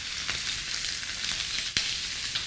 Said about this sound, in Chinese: 这个大鸡腿煎一下